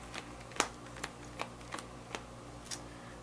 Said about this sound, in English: Let me go ahead and shuffle those back in.